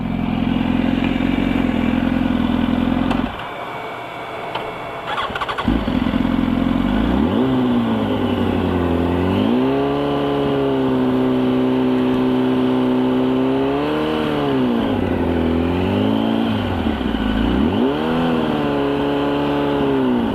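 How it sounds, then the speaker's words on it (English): A 2004 Yamaha R1 motorcycle with a burning, worn-out clutch revs loudly and continuously up close, its engine pitch rising and falling in repeated swells, with a brief dip near the start. "Oh, he burnt the clutch all the way out."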